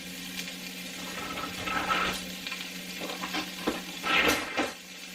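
Food sizzling in a hot cast iron pan while cooking dinner for burrito bowls: a steady frying hiss with bursts of crackling and some stirring clatter, fairly close, no talking.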